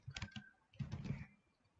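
Someone types a Linux command on a computer keyboard: two quick bursts of soft, close key clicks with a short pause between, quiet and with no one speaking.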